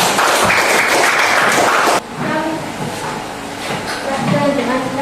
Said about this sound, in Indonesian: tepuk tangan dengan kelompok 1